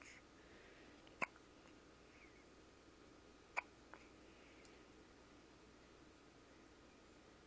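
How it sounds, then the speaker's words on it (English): An infant hiccupping in a quiet room, two sharp, faint isolated hiccups about two seconds apart with a tiny third catch after the second, over soft background hiss. "he's still got hiccups"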